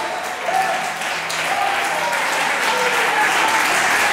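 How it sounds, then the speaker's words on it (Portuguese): A church congregation applauds in sustained, dense clapping that stays loud and even throughout, with no speech over it. "Se você crê, aplauda o Senhor nessa noite."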